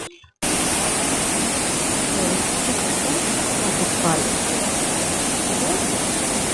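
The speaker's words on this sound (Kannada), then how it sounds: "ಕಲ್ಯಾಣಿ ತುಂಬಿ ನೀರು ಹರಿತಾ ಇದೆ ಇದು ತುಂಗಾಭದ್ರಾ ನದಿ" Water rushes steadily through a brimming temple stepwell beside the Tungabhadra river near Bellary, a loud, unbroken roar that starts abruptly after a brief quiet moment.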